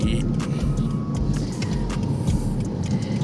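A Mitsubishi FTO GP Version R accelerates hard, its engine giving a steady, close, moderately loud drone with cabin rumble. There is no clear talk over it.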